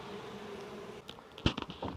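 Honeybee swarm freshly settled into a hive box, giving a steady low buzz throughout, with brief handling knocks and rustles in the second half.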